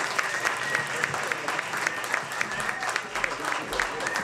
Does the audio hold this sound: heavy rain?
no